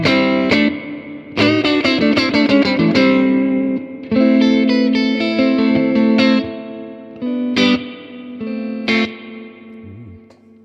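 Distorted electric guitar chords and notes through a Harley Benton Tube 15 amp with heavy spring reverb from its spring reverb tank, tails ringing and splashing after each phrase.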